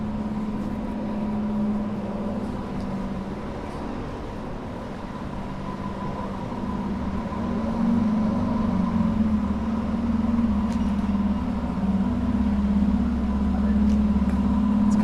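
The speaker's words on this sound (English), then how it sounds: "it looks like, actually the fire truck's just about to come out" A fire truck pulls out of a New York City firehouse at night, its engine a steady low rumble that grows slightly louder in the second half, with street ambience around it.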